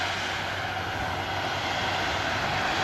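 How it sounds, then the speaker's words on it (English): A Jet2 Airbus A330 holding on the ground at Manchester Airport gives off a steady, unbroken engine roar that fills the whole stretch at an even level, with no voices. "this Jet2 A330 is still holding right next to the RVP"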